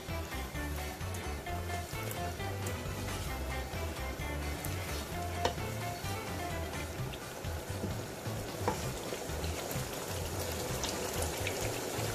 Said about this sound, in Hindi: अब मैं इसमें ऐड करूंगी 4 टेबलस्पून योगर्ट